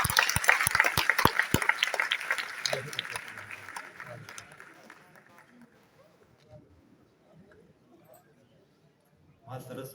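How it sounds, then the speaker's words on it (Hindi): Audience clapping at a Hindi poetry gathering, a short burst of crisp, scattered claps that thins after a few seconds and fades into murmuring voices and quiet room noise. "थोड़ी और तालियां।"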